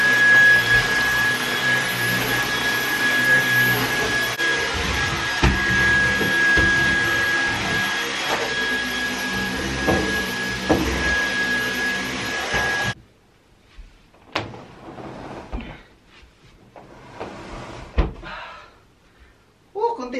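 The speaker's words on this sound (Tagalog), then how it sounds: "mag-vacuum ko lang muna ako dito" A household vacuum cleaner runs steadily indoors as a loud continuous drone for about thirteen seconds, then cuts off abruptly, leaving quieter room noises and scattered thumps.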